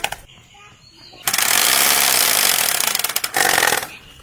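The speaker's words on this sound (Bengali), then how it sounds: "আর নে, এটা তো রয়্যাল বাইক" A Royal Enfield motorcycle engine bursts into a rough, rattling roar, cuts briefly, then revs again before stopping, with quiet voices in the pauses.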